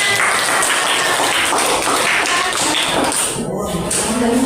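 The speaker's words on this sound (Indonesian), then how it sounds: "Oke, beri tepuk tangan." Students clapping in an Indonesian eighth-grade classroom, a dense, loud, continuous burst of applause that fills the whole moment, with some voices mixed in.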